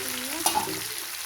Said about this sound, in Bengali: আর এখানে আমি পেঁয়াজগুলো দিয়ে দিব।